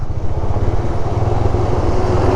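A motorcycle engine drones steadily and loudly under load while climbing a hill road at Changla Gali between Bhurban and Ayubia in Pakistan, with a constant low rumble and no pauses.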